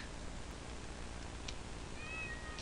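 A cat meows in the horror video game Ao Oni, a brief wavering cry near the end over a steady hissing background, fairly faint and alone without talk.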